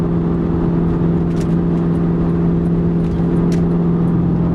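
A Ford Mustang GT with a 4.6 V8 and 4.10 gears drives along, its engine giving a steady, loud drone heard from inside the car.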